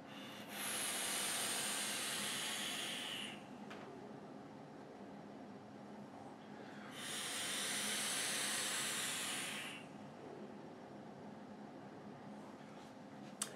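Two long breathy hissing draws from a vape mod, each about three seconds, separated by a quiet pause, close to the mic with faint background noise.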